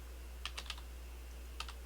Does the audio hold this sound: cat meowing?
no